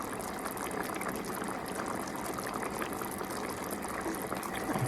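Chicken madras curry with a cup of water added is stirred in a pot, producing a continuous watery, bubbling swish heard close and steady throughout.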